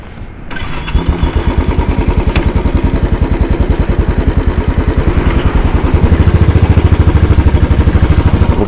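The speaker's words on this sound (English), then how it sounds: "I'm going to start the bike up now." The 500 engine of a 2010 Royal Enfield Bullet motorcycle fires up after a brief quiet moment and settles into a loud, close, steady thumping idle. The pulses are evenly spaced and grow slightly heavier toward the end.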